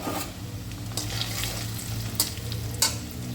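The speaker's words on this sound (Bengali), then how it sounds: "এখন তেলটা গরম হয়ে গেছে, অল্প অল্প করে চিড়াগুলো ভেজে নেব।" Flattened rice (chira) fries in hot oil with a steady sizzle, while a utensil stirs it, giving occasional sharp scrapes and clinks against the pan.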